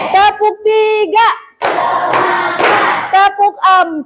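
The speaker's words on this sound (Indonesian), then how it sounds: "Nah, tepuk konsentrasi." A classroom performs the rhythmic 'tepuk konsentrasi' clapping routine, with loud bursts of hand claps alternating with children's voices chanting counts in a patterned call.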